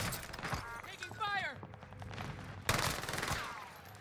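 Rapid gunfire bursts from the video game Warzone, shots from an akimbo close-range weapon crackling in quick succession with a sharp louder burst partway through, mixed with game effects and a voice talking over them.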